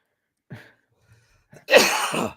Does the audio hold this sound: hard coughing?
yes